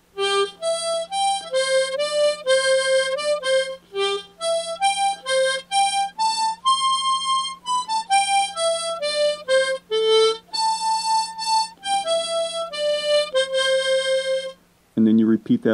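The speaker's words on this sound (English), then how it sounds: "So on the C harp, it's going to sound like this." The tune Newcastle is played on a C tremolo harmonica as a clear, lively melody of distinct reedy notes with a steady low drone beneath, continuous for about fifteen seconds before a brief different sound at the end.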